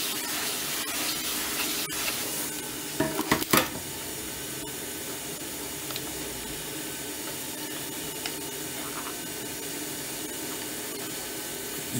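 A heat gun warms the rubber and plastic of a Levana LGHP5C camera to soften its glue, giving a steady airy hiss throughout with a few brief clicks and knocks near the start.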